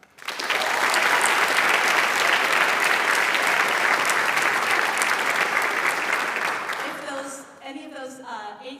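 A large audience applauds at an honors day ceremony, a dense sustained roar of clapping that holds steady for several seconds, then thins out as a few voices begin to speak over the last scattered claps.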